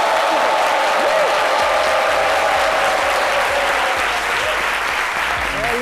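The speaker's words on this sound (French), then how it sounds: "Acclamation." Sustained, loud audience applause fills a theatre as a play begins, dense and steady throughout with crowd noise underneath and no break.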